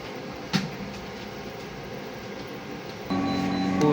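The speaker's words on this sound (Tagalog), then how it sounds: "Printer head clean." A printer head cleaning cycle: a low mechanical whir with a single knock near the start, then a louder, steadier machine hum with a whine kicks in toward the end.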